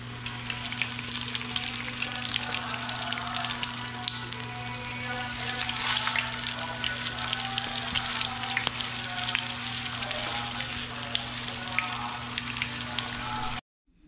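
Garlic fries in a pan with a loud, dense, crackling sizzle that holds steady and close, then cuts off abruptly near the end; a low hum runs underneath.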